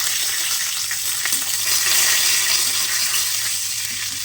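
Cumin seeds and bay leaf sizzle steadily in a little hot oil in a wok-style pan, a loud, dense, continuous hiss with no voices.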